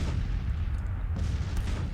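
Grand Tactician game artillery fire sounds as a dense, continuous low rumble of booming cannon, heavy and steady throughout with a few faint higher crackles on top.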